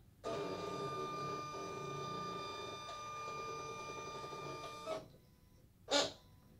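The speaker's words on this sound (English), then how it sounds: "So now it's going to be cutting with the rotary blade." A Silhouette Cameo 4 cutting machine drives its rotary blade through fabric, a steady close mechanical whir with tonal motor hum running for about five seconds, then stopping, followed by a brief click.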